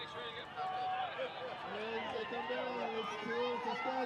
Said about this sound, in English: You hear the crowd really coming alive as these athletes make their way in